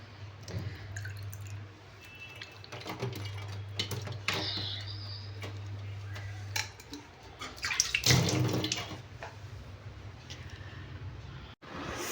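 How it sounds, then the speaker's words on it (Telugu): Water splashes and trickles close by as a face is washed with rice-rinsing water, hands scooping and patting, a low hum beneath and brief drips. "ఆ వాటర్తో ముఖం కడుక్కుంటున్నాను"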